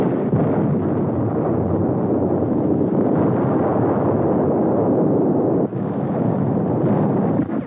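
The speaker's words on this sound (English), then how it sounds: "Enemy communications are torn to pieces by American artillery and daring flyers who dominate the skies over" Sustained, dense rumble of American artillery shell explosions in a 1944 WWII newsreel, a loud continuous roar of blasts merging into one another with no talk over it.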